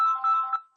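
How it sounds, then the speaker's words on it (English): A short burst of phone ringtone sounds, a few clear electronic tones that fade out within a second. It is moderately loud and heard alone. "sorry, that's my phone."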